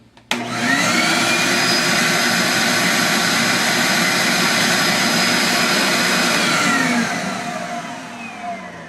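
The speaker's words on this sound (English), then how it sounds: "let's go for shop vac in 5, 4, 3, 2, 1, shop vac." A shop vac runs inside a bee vac box, switching on with a sharp start and holding a loud, steady roaring whine with a high tonal hum for several seconds before easing off near the end, with no talking.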